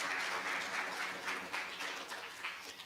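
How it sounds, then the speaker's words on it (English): An audience at a presentation claps steadily in a dense, fairly faint patter while a speaker is being introduced, with no talking over it. "You may applaud."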